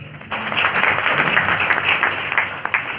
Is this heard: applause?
yes